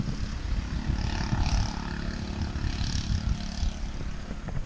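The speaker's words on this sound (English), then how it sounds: "got a pit bike guy going by" A pit bike motoring past outdoors, its engine giving a steady buzzing roar that stays fairly loud and constant through the brief moment, with no one talking over it.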